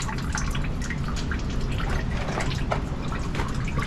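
Fluid from an old tractor drips and trickles into a drain pan in a dense, rapid patter of small splashes over a steady liquid hiss, close and fairly soft, with no speech.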